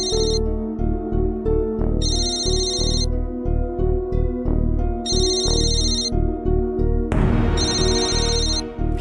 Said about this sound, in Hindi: ये फोन तो लगातार बज रहा है,